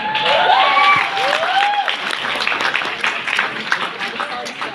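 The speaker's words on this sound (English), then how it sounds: "a really nice round of applause" Audience applause and cheering at a keynote speech fill the room, dense clapping with a few whistles and shouts near the start, steady and loud before thinning slightly toward the end.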